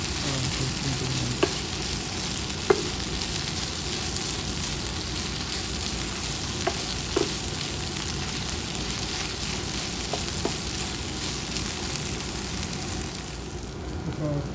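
Plantain slices fry in a pan over low to medium flame, giving a steady soft sizzle throughout with a few faint clinks of a utensil.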